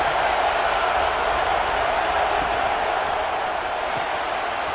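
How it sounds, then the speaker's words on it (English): Home crowd at a football game, a steady, dense roar of cheering and noise holding at an even level throughout with no distinct peaks or breaks. "this home crowd is fired up and ready to make a difference today"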